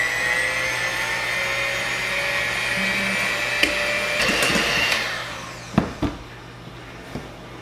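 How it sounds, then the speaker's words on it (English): A stand mixer fitted with a paddle beats eggs on low speed, giving a steady close whirring motor drone with a few knocks and clatters near the end. "And on low speed with a paddle, we will beat the eggs."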